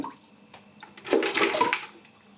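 Water running and splashing as a baby bottle is rinsed at a sink after soaking in steriliser solution, quiet at first then a louder steady gush for about a second before easing.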